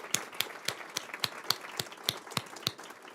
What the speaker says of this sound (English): If we could give them a round of applause, they did all the work.